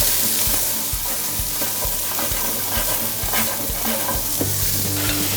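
Peppers and onions fry in a pan for a one-pot peri peri chicken dish, making a loud, constant hissing sizzle with repeated light taps and scrapes of stirring close by.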